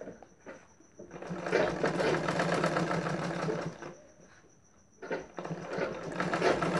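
An electric sewing machine stitches a blouse sleeve seam in long steady runs of rapid mechanical whirring, close and loud, broken by a short pause and brief starts before it resumes.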